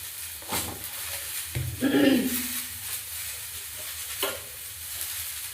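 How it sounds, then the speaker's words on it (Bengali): Mixed vegetables frying in a pan for a vegetable dalia dish, a steady sizzle with stirring scrapes and brief clatters, close by. "সবজিগুলো একটু ভেজে নিলে ভালো হয়, তাই ভেজে নিলাম।"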